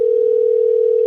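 A phone on an outgoing call gives a single steady ringback tone, loud and unbroken throughout, with no voices.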